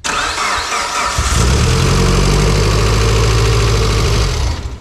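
A fully built Mitsubishi Evo 8 engine cranks and fires up for the first time, catching after about a second and settling into a loud, close, rough idle before cutting off.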